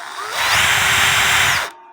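Power drill with a bit held in a Jacob's chuck whines up to speed, holds a steady high-pitched buzz for about a second, then cuts off abruptly.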